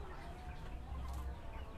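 Chickens fill a KUB chicken farm with a dense, faint murmur of clucking and low chatter from many birds at once, heard briefly with no voices over it.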